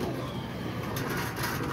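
A captured pigeon coos in low, continuous murmurs, steady and fairly close against a busy background.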